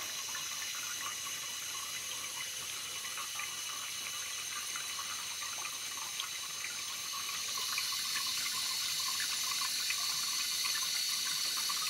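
Water steadily refilling the tank of a 1958 Briggs toilet with a brass float ball, a continuous hissing rush with no pauses, growing slightly louder toward the end.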